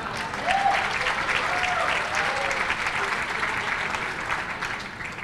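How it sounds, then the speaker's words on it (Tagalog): A large audience at a political rally claps steadily for several seconds, a dense, even wash of applause that stays loud throughout, with a few faint voices underneath. "yun ang mga pumapalakpak."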